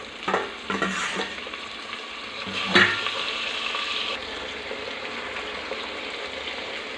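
Potato, carrot and tomato pieces drop into hot oil for an aloo tomato rice tempering, first a few clattering bumps and a sharp hiss, then a steady close sizzle that carries on alone.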